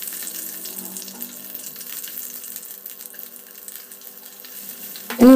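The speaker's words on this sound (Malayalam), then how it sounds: "കടുക് പൊട്ടിക്കഴിയുമ്പോൾ 2-3 വറ്റൽമുളക് 2 മുറിച്ചിട്ട് ഇതിലേക്ക് ചേർത്തൊന്ന് ചൂടാക്കാം." Dried red chillies broken in half crackle and sizzle in hot oil with popped mustard seeds, a steady close frying hiss throughout, ending in a brief louder clatter.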